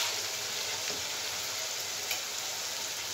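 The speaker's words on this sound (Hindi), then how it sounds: "आदि डाल रहे हैं, मिर्चा डाल रहे हैं। सबको फ्राई करना है इसमें।" Ginger and chillies fry in a pan for a chicken chilli dish, a steady, fairly quiet hiss of sizzling oil running unbroken from start to finish.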